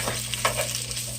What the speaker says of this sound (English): And these are just some peppers and onions that I bought at the grocery store. We're going to saute those.